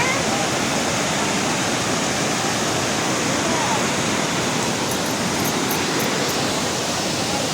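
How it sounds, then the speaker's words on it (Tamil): Hogenakkal waterfalls roar with loud, dense, continuous rushing water heard up close from near a hanging bridge, with faint voices buried in the noise. "நல்லா ஃப்ளோ ஆகுது தண்ணி, நல்லா தான் இருக்குது."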